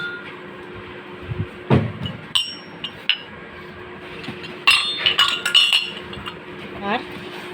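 Ceramic rice dishes, one long and one round, clink and clatter as they are handled, with scattered bright knocks and a cluster of ringing chinks toward the end. A voice talks briefly between the sounds.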